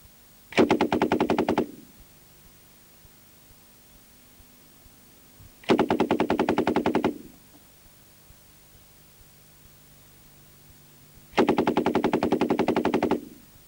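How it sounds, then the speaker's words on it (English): A Soviet belt-fed machine gun fires three loud, sustained bursts of rapid shots, each about a second long, separated by pauses of several seconds with no talk. "Simply a question now of cocking the weapon and continuing to fire."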